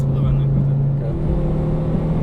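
A Subaru Impreza WRX engine hums steadily from inside the car while driven gently without flooring it, a smooth low drone with a faint rise in pitch, and someone speaks over it.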